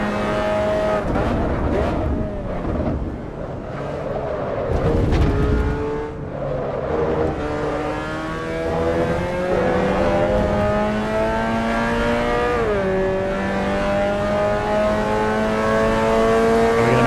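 Race car engine at full throttle in a racing video game, pulling toward the 130R corner: a loud, sustained high-revving whine that climbs steadily in pitch, with a brief gear-change dip and some tire noise underneath.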